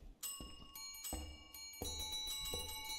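A bell in the Phasmophobia ghost-hunting game is struck repeatedly, several bright metallic rings overlapping and sustaining in a steady, fairly loud series with no talk.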